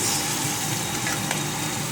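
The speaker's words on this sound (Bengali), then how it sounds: "দুপুরবেলা আমি খেয়ে যাব তাই জন্য এখানে ভাজছি মাছ" Fish frying in a pan for a home lunch, a steady close hiss and sizzle of hot oil running unbroken the whole time, with no talk over it.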